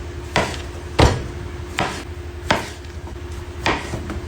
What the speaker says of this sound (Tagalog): Unahin ko nang hiwain yung pipino.